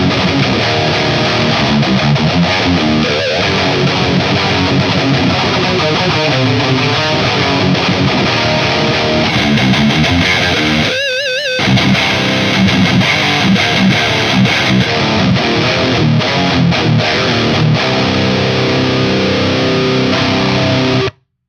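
Heavily distorted high-gain electric guitar played through a Mesa/Boogie Mark amplifier with the gain turned up, a loud, continuous dense chugging riff with a brief break near the middle, then resuming to the end.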